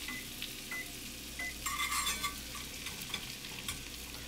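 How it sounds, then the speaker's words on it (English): Butter sizzles and crackles in a hot cast iron pan while a metal whisk scrapes and stirs it, soft continuous frying with brief brighter bursts of scraping, close and fairly quiet. "In goes our butter into the hot pan."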